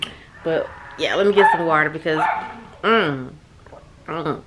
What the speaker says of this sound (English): Do y'all hear my dog barking?